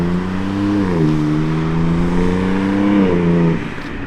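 A BMW G80 engine fitted with IRL exhaust valve controllers revs steadily up, holds, then lifts again before dropping away, a loud, close, droning exhaust note with no talking.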